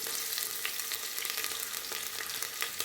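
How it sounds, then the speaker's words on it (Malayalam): Crushed ginger and garlic frying in hot oil with whole spices such as cloves and cardamom. A steady, close, crackling sizzle runs throughout, with faint stirring and no voices. "ഇഞ്ചി വെളുത്തുള്ളി ചതച്ചതും കൂടി ചേർത്ത് നന്നായിട്ടൊന്ന് മൂപ്പിച്ചെടുക്കാം"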